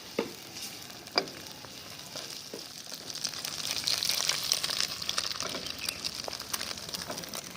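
Chopped onion and green chili fry in oil in a pan for fried rice, with a continuous crackling sizzle that grows louder midway and scattered sharp clinks of a spatula stirring against the pan.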